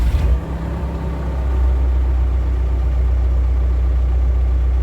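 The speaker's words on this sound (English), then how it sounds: "It's always a good idea to let the machine engine idle when starting for a few minutes" A Manitou telehandler forklift engine settles into a steady, loud diesel idle just after starting, a constant low rumble with no talk.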